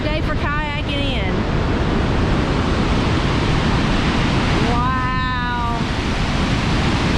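Broadband roaring rush from a flooded waterfall in Tennessee, loud and steady throughout, with a voice briefly exclaiming near the start and another short vocal sound partway through.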